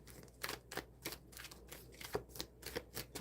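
Tarot cards being shuffled by hand, quiet and close, a run of soft riffling flicks in an irregular rhythm.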